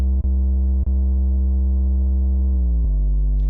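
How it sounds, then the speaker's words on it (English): A sine-wave bass line made in the Renoise tracker plays as a loud, smooth low tone. It is briefly cut twice early on, then holds steady before stepping down in pitch near the end. "This is the sine wave."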